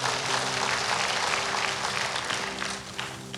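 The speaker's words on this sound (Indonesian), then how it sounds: "Yuk kita beri tepuk tangan buat Tuhan" A Sunday service congregation bursts into loud, sustained applause that stays full and steady, with a low hum beneath it.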